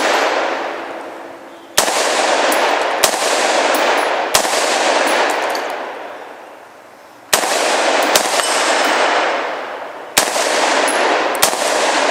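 An ARAK-21 rifle fires a string of loud, sharp single shots spaced one to three seconds apart, each crack followed by a long, slowly fading echo across an open range, with no talking.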